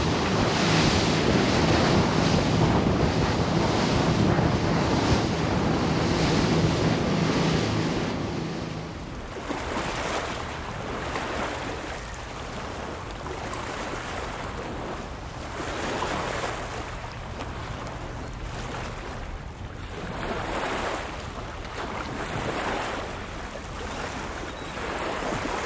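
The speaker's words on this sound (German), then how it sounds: "Nach der Kursänderung hinter dem Seegat haben wir die Welle von leicht schräg hinten." A motorboat runs through North Sea waves near Wangerooge, swells coming from slightly astern, with steady loud wind and water rush throughout, heavier surf churning in the first eight seconds and rhythmic wave slaps after; no one speaks.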